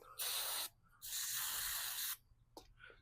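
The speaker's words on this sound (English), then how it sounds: "and just spray the plug down." Two bursts of brake cleaner spray onto a spark plug from a 1984 Yamaha Virago hiss loudly, one short and one longer, followed by a brief faint spritz.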